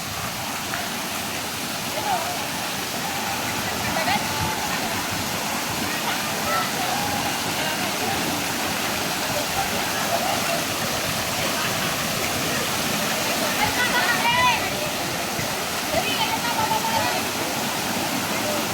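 A big water-filled tipping bucket at Camaya Coast Beach Resort in Bataan dumps its load, a loud, continuous roaring cascade of splashing water, with voices and excited shouts mixed in.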